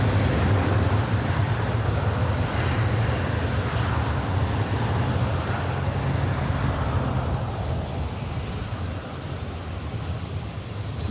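A Lufthansa Boeing 747 on short final approach to runway 24 right gives a loud, steady broadband engine roar that holds near and constant, easing slightly toward the end.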